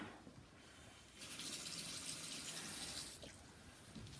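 A bathroom tap runs as a face mask is rinsed off, a soft trickle swelling into a fuller gushing stream for a couple of seconds before easing back, heard close and alone.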